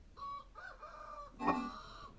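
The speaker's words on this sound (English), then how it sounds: "here are the chickens." Chickens in the Vintage Story survival game give a few short clucking and crowing calls, fairly close and clear, with one louder burst near the end of the brief clip.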